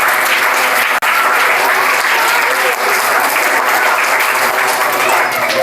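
Loud, sustained applause from a school audience at a magic show, a dense wash of clapping lasting throughout with a brief break near the start.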